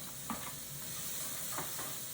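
Cold onions going into a hot roux for Louisiana gumbo, giving a soft steady sizzle with a couple of scraping stirs of the spoon, close and fairly quiet, with nobody speaking.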